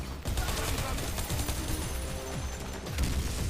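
Rapid automatic gunfire from the shooter game Bodycount rattles in dense bursts, loud and continuous with a heavy low thump, over a muffled game soundscape.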